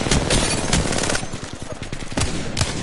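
A Spitfire machine gun fires in a video game in loud, close, rapid bursts, rattling hard at first, then easing into a quicker, lighter patter before heavier shots return.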